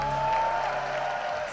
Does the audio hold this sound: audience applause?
yes